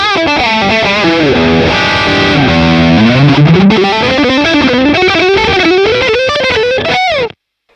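Electric guitar through a BOSS Katana amp on the lead channel with everything set to 12, loud distorted sustained notes sliding and bending in a continuous lead line, then cutting off abruptly.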